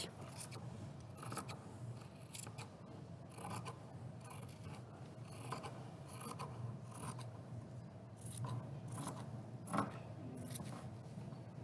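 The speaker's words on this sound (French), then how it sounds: "Donc vous découpez en suivant votre ligne de repère que vous venez de tracer." Scissors cut through fabric along a traced line at a beginner sewing workshop, with faint, repeated snipping and rasping strokes at an uneven rhythm over soft room noise.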